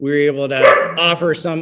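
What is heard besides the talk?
dog barking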